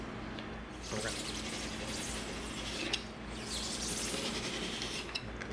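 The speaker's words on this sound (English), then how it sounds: "Now we're going to cut the bevels on the two ends." A blade scrapes and saws through EVA foam while cutting bevels on the ends, a close, rough rasping in uneven strokes with small clicks between passes.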